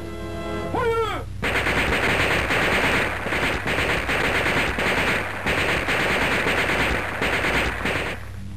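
Sustained, loud machine gun fire rattles on for several seconds in dense, continuous bursts. It follows a brief whining tone at the start, and no one speaks.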